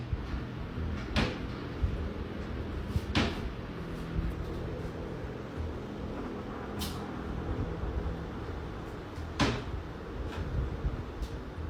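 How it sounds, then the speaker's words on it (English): Kitchen drawer and cupboard door opening and closing late at night, a few sharp knocks and thuds spaced seconds apart over a low steady room hum, fairly close and moderately loud. "The drawer and cupboard door begin to open and close, seemingly all on their own."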